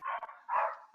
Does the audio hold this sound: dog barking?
yes